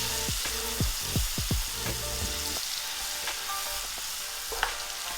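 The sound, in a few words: onions and garlic frying and being stirred in a hot pan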